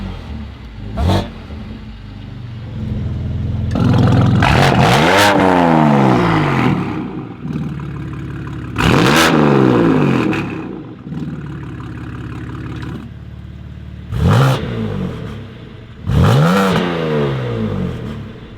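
BMW M4 G82 with a loud aftermarket Project Gama exhaust revving hard four times, each sharp rising roar and falling burble standing out over a rumbling idle, close and very loud.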